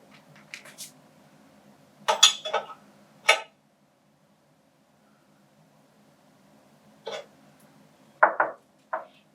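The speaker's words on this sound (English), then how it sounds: "Then, you'll tighten the hex nut in place." A hex nut is tightened on an insertion flow meter fitted to a pipe: several short metallic clicks and clanks of a tool on the fitting, in separate bursts with quiet gaps between them, close and without speech.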